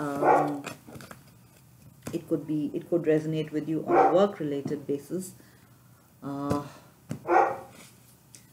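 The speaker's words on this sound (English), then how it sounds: "Sorry about the barking in the background." A person talks while a dog barks and yips in bursts nearby, the barks mixing with the speech.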